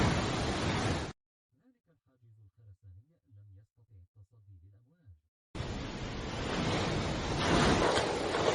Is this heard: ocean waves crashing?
yes